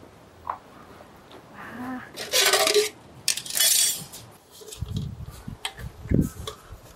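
A metal saucepan and its lid are handled in a kitchen, with a couple of bright ringing clanks and scrapes, close and fairly loud, followed by softer knocks while people talk.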